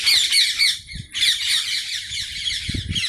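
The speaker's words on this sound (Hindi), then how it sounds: "कितनी खतरनाक आवाज़ आ रही है बर्ड्स की।" Birds squawking loudly near a well and a small shrine in dense bushes, harsh repeated calls overlapping in quick bursts, close and continuous with faint low background rustling and no talking.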